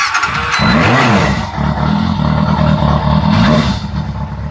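A Yamaha FZR600 motorcycle with a charging problem cranks and fires up, then settles into a loud, close, steady mechanical idle with a rough, pulsing engine note.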